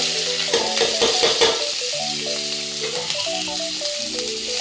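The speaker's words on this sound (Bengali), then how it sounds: "এখন আমি পেঁয়াজগুলো সাইডে লাল করে নিব।" Onions fry in oil in a wok, a close, steady sizzle with a few quick stirring scrapes early on, while background music plays.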